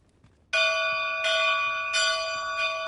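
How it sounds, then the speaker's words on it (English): A large bell in a fantasy role-playing game is struck three times in even succession, each strike a loud, bright clang that rings on into the next. "All that remains is to ring the bell."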